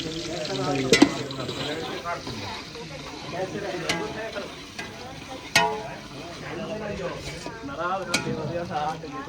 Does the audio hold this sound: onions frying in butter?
yes